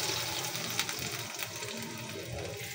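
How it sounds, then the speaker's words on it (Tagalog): About a cup of water pours into a cooking pot of honey mustard pork, making a continuous, soft splashing rush that lasts the whole moment with no talking. "At lagyan na po natin ng 1 cup na tubig para po yan sa pagpapalambot."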